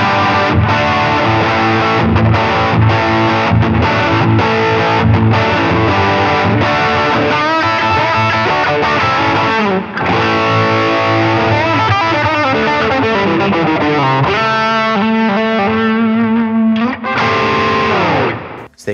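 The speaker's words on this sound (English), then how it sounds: "a couple of tones out of the Epiphone Les Paul Classic in worn purple" A heavily distorted Epiphone Les Paul Classic electric guitar plays a classic rock riff with crunchy power chords and a few sustained single notes, loud and alone with no voices.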